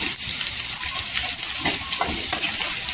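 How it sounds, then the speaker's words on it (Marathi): Garlic fries in hot oil until golden for a quick fenugreek-leaf (methi) bhaji, with continuous close sizzling and crackling and light stirring scrapes. "लसूण आहे ना गोल्डन कलर करून घ्यायचा पूर्णपणे तेलावर छान अशी फ्राय करायची"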